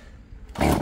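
A Husqvarna chainsaw being pull-started without catching: one short, loud rasping pull bursts out near the end after a quieter stretch, and the engine never fires.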